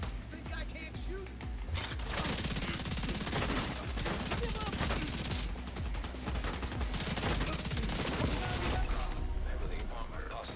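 Sustained automatic gunfire in The Division 2, dense rapid bursts that run nearly continuously with brief lulls, loud and close, with game voices partly under the shooting.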